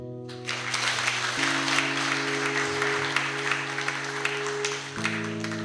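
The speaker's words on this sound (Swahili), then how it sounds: "Mimi naona eti haya makofi yanatosha. Hebu ongezeni makofi tafadhali." A school ceremony audience in Dodoma gives a sustained round of clapping, dense and fairly loud, with a steady tonal hum running beneath it from start to finish.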